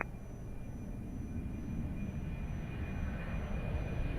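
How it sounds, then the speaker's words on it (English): A Boeing 737 jet departing Lisbon Airport, heard as a steady low engine roar that slowly builds at a distance, with a faint high whine above it. "Boeing 737 departing"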